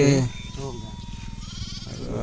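A sheep bleats loudly at the start, followed by a steady low wavering drone with faint bleat-like cries in the background.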